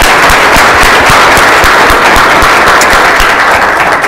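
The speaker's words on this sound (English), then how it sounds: "I have another round of applause for the Chairman." Loud, steady round of audience applause at a blockchain forum keynote, dense crackling claps filling the whole few seconds without speech.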